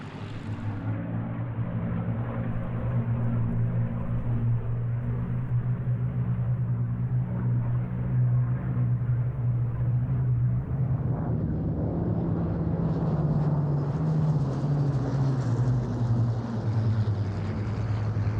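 An all-black Mark 12 Spitfire flying at the Duxford air show, a loud, steady piston-engine drone with a deep rumble that holds throughout and shifts in pitch as it passes.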